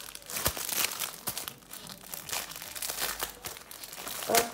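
Packaging around a diamond painting canvas being opened, with close, continuous crinkling and crumpling of plastic and a few sharper tearing bursts, and no talking.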